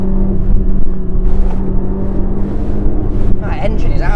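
A Peugeot 206 engine revs hard and loud, a steady droning roar that swells and falls without any raw engine sound bay sound deadening, with an excited voice talking over it near the end.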